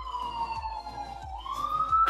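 An ambulance siren wails with a sweeping tone that dips and then rises as it passes, steady and moderately loud, with no voices over it.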